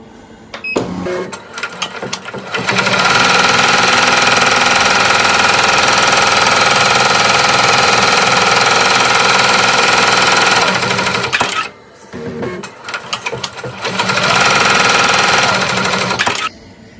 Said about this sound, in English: we're going to sew the tack down stitch now.